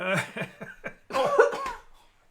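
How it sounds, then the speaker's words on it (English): A burst of several harsh coughs in quick succession, close up, followed by a brief throat-clearing fade into quiet. "I need to cough."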